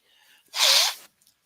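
A single sharp, loud sneeze bursts out close to the microphone after a faint intake of breath, lasting about half a second, then quiet.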